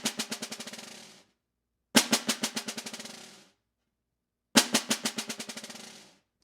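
Three bursts of rapid bouncing stick strokes on a practice pad, each a quick decaying series of taps separated by silence, crisp and close.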